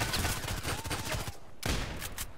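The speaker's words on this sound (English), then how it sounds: "So I think this is a very perfectly balanced shotgun" MP-133 shotgun fire in the online shooter Contract Wars on the Bay5 map, a run of sharp, punchy blasts in quick succession, with a distinct final shot near the end, close and loud with no talking.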